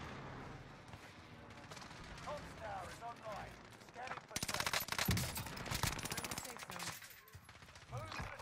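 Gunfire in a multiplayer shooter game: bursts of rapid automatic fire build to a dense, loud volley of shots halfway through, with game sounds around it.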